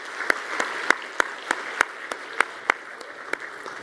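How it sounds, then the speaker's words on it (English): Awards ceremony audience applauding the sponsors: sparse, fairly quiet clapping with a few distinct sharp claps standing out at a regular pace over a soft wash of more distant hands. "Please, again, join me in a very loud and general round of applause for all our sponsors."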